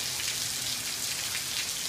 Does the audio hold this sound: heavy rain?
yes